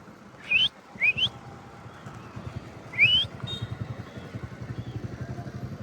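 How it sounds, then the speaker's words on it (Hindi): A man whistles to call a dog, giving three short rising whistles, two in quick succession and one after a pause, loud and close, followed by a low puttering engine. "एक सीटी मारूंगा और तुरंत आएगा इधर"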